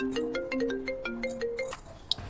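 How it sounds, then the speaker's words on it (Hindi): A phone ringtone plays a bright, repeating melodic tune at moderate volume, with a short tonal blip near the end. "देखना किसका फोन आ रहा है"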